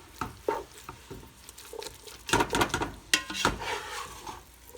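Ground turkey chili in a pot is stirred with a spoon, giving irregular wet squelches, scrapes and clunks against the pot over a faint simmer, close and without talking.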